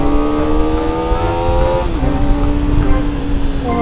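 A Kawasaki ZX25R motorcycle accelerates hard on a hilly road, its high-revving engine screaming loud and close, with a brief dip as it shifts gear before the pitch climbs again.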